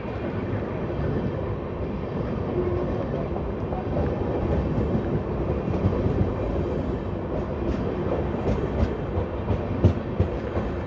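The Amrit Bharat Express from Kamakhya to Rohtak, hauled by a WP7 locomotive, rolls by in a loud, continuous rumble with rattling wheels and faint clicks from the rails.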